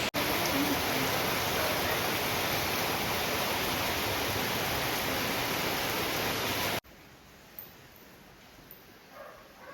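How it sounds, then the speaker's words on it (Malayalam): Heavy rain roars steadily as a dense wash of noise, then cuts off abruptly, leaving a quieter room with faint sounds. "പുറത്ത് നല്ല മഴ"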